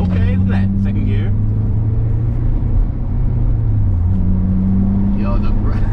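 Car engine pulling in second gear after a new Exedy Stage 1 clutch install, a steady low drone with rising and falling tones, close and loud, with someone talking over it at the start and end.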